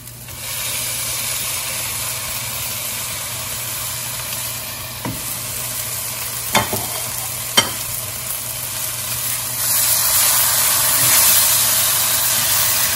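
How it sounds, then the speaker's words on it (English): Grated tomatoes sizzling in a pan of pigeon pea curry, a steady frying hiss with a few soft stirring clicks and a slight rise in sizzle near the end. "that's the time we're going to go ahead and add our grated tomatoes in here."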